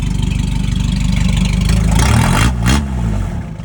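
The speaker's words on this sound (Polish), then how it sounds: "to jest jakiś wydech sportowy chyba." A car engine with a throaty sports exhaust idles with a steady low burble, then revs briefly near the end, loud and close.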